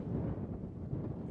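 Steady low, blustery wind on a mountain in Snowdonia rumbling against the microphone, loud and continuous with no pauses or voices.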